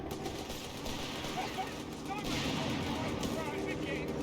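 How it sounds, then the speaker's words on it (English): Machine gun and rifle fire crackle through a Company of Heroes 3 battle, dense distant bursts forming a continuous rumbling backdrop beneath steady talk. "Kill both of his machine guns."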